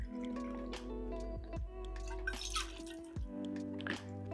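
Whisky measured and poured for a smoked highball cocktail: soft, close trickling and dripping liquid with small gurgles, quiet and without speech.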